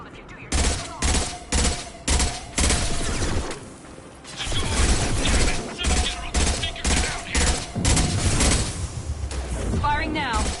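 Rapid bursts of automatic gunfire from a firefight in the video game Mass Effect 2, loud, repeated volleys with short pauses between them, overlapping with voices.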